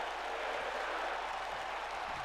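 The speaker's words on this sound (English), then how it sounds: "Edge encouraging the crowd to cheer for Christian" A wrestling arena crowd cheers and applauds during a tag team match, a steady, broad roar of clapping and voices that holds at an even level throughout without a break.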